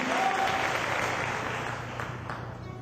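Sustained applause from a large church congregation fills the room, steady and dense, with a faint voice underneath.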